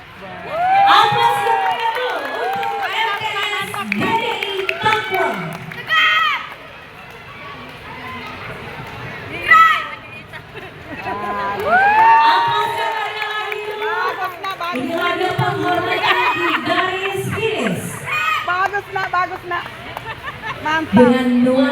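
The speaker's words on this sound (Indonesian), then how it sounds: "Aplaus yang meriah dulu untuk MTS DDI Takwa." A crowd at a middle-school marching competition in Parepare for the 78th Indonesian Independence Day roars and cheers in waves, close and fairly loud, while an announcer speaks continuously over the top.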